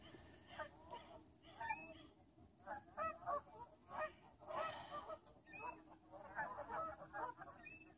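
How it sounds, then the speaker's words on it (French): Honking bird calls, goose-like, repeat in irregular bursts at a distance outdoors on Rue St-Joseph in Lévis, fairly faint against a low background hum. "il y a un petit oiseau qui crie là-bas"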